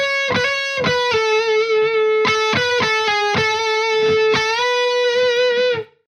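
A distorted electric guitar plays a phrase from a solo, picked notes with whole-tone bends and slides ringing loud and clear, alone, before cutting off at the end.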